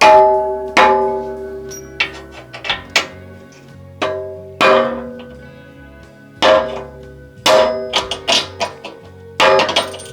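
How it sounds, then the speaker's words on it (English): Repeated sharp metallic hammer taps on a Porsche 928 body panel during crash repair, irregularly spaced, each ringing briefly before fading; close and fairly loud with no talking. "Let's try a little tap with a hammer."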